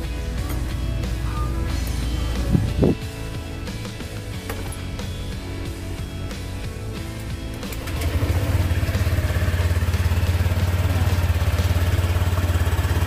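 Honda Click 125i scooter engine running during a coolant replacement, a steady close idle with mechanical clatter that rises to a louder, busier drone partway through.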